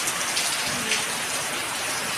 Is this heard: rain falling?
yes